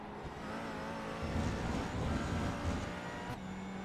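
GT4 race cars at Hockenheimring cross the finish line, a steady mid-distance engine drone with rising revs and a passing swell, sustained throughout without speech.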